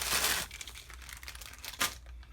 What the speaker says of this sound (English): That crinkling I know bothers some people.